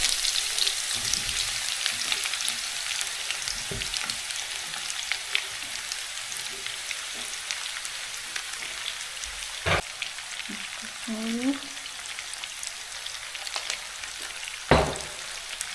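Chopped onion tipped whole into a hot pan sizzles with a steady broadband hiss for the length of the clip, broken by a few sharp clicks and knocks of a utensil, with no voices.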